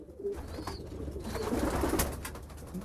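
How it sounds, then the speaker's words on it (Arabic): Homing pigeons, young birds and squabs, coo at an auction with several soft, throaty, repeated coos over a low background murmur, fairly close. "كل الحمام يا جماعة اللي هنبيعه النهاردة زاجل سواء زغليل او شباب."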